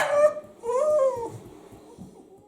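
A dog at a British wrestling show held indoors and outside howls in a drawn-out, wavering note after a short whine, close and clear, then fades to quiet background.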